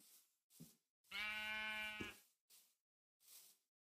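Minecraft sheep give a few short bleats and then one longer wavering baa in the middle, clear and close against silence, with no voices.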